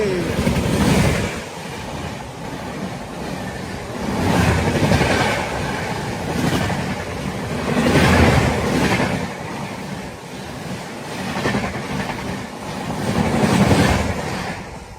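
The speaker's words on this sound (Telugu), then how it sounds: "జన్మభూమి వెళ్ళిపోయింది." Departing over a crossover, the Janmabhoomi Express from Lingampalli to Visakhapatnam rumbles away with a steady rail roar that swells and fades in regular waves of wheel clatter.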